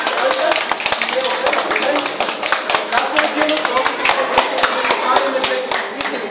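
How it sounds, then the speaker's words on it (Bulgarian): An audience claps in a quick stream of sharp, distinct hand claps, fairly close and loud, with a voice talking over it throughout. "Нека аплодираме с Злати"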